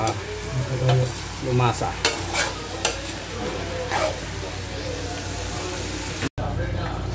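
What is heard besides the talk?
stirring adobo with soy sauce in a pan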